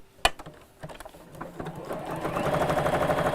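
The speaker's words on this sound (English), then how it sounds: "I stopped with the needle on the left hand side down here and then carried on sewing" After a sharp click and a few faint taps, a sewing machine starts up and builds to a steady, rapid close whir while stitching toward the corner of a fabric gift bag, with no voices over it.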